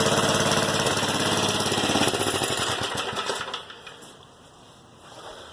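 A small engine sputters to life and runs rough and loud with a rapid chattering putter, then dies away and quiets near the end.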